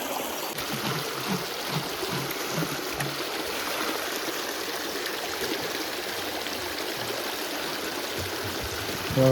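Continuous rushing flow of water from a tap into a container, steady and fairly close, with no voices.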